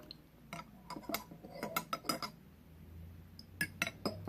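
A spoon stirring agave syrup into a melon tea drink in a glass, producing a run of quick, bright clinks and taps against the glass in irregular bursts, with no talking.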